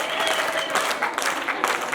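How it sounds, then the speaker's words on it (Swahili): Crowd clapping at an outdoor Mulembe gathering in Kakamega, a dense burst of hand claps close up that continues evenly for a couple of seconds, with voices mixed in. "Piga hapa makofi kidogo namna hii."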